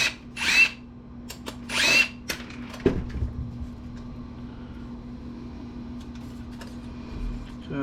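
A power drill backs screws out of a Gateway AMD desktop PC case being scrapped, with short whirring bursts followed by a quieter steady hum and faint clicks of metal parts.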